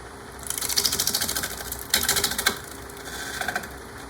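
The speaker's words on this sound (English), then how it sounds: "That was a push cut, and we have that part round." A gouge makes a push cut on a wooden bowl spinning on a wood lathe, producing a close, loud, rapid rhythmic chatter that swells, pauses briefly and returns for a few seconds.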